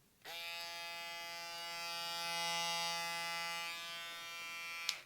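A StyleCraft Rebel electric shaver switches on and hums steadily with a bright buzzing tone, running close by for several seconds before clicking off.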